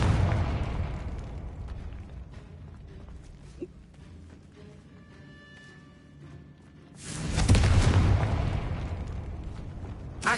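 Confringo blasting spell in Hogwarts Legacy: a low rumbling, crackling magical blast that fades into creaking and a faint tone, then a second loud, broad burst of explosive noise near the end; no talking.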